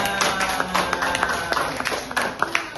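Scattered applause from a small classroom group during a teaching simulation, a dense patter of claps lasting a few seconds with faint voices mixed in.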